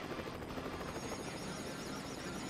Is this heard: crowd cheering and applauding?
no